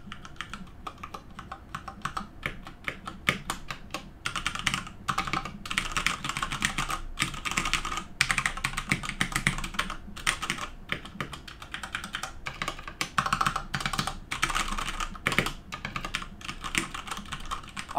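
Typing on a Durgod Hades 68 65% mechanical gaming keyboard: a steady stream of crisp, solid clacks and keystrokes, close up and continuous for the whole stretch, with no talking.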